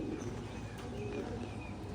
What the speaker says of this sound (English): Those are Jerry's birds